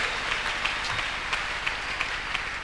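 A church congregation claps together in steady, fairly even applause, a dense wash of many hands with rhythmic accents, heard from within the room.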